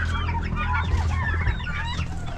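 Dense turkey clucking and gobbling from many birds at once, a continuous busy flock chorus with no talking.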